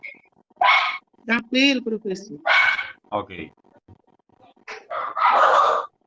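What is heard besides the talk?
dog barking angrily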